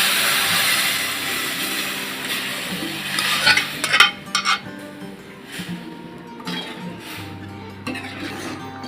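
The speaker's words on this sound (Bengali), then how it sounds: "সাথে কয়েকটা পাঁচফোড়ন দিয়ে দিলাম। এখন তেলের মধ্যে দিয়ে দিলাম।" Greens with panch phoron spices fry in hot oil while a spoon stirs and scrapes the pan, with steady sizzling, clinks of utensil on metal and a few louder knocks mid-way, close up and without speech.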